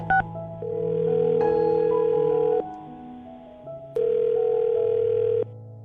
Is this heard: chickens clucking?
no